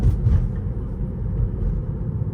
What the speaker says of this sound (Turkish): elektrikli arabalarda yol sesini fazla alıyorsun